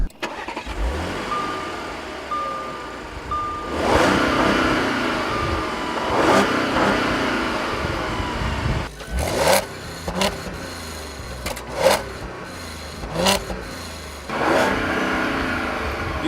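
Engine of a 2014 Audi SQ5 SUV revving hard into its rev limiter around 3,500 RPM, loud and close, with repeated sharp bursts and cut-offs in the second half and no talking.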